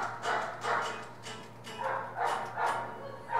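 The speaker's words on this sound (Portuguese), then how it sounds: "O cachorro tá latindo no tempo da guitarra." A dog barks in a steady run of yips and bow-wows over a constant low hum, keeping a regular rhythm at moderate distance, recorded in a band's rehearsal setting.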